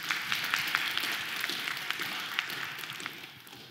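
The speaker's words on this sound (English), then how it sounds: "Thank you, Darya. A round of applause." An audience claps for someone speaker after her talk, a full, steady burst of applause from a crowd that gradually thins and fades toward the end.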